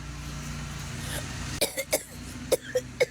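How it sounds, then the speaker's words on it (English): A quick series of about six sharp, nearby coughs in an irregular burst, coming after a moment of low background hum. "Tell you about that coughing"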